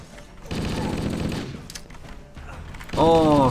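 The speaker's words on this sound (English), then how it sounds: "It's a shotgun, though." Shotgun fire in Halo: Custom Edition, loud blasts and a rattling burst of gunfire, with a voice speaking over the action toward the end.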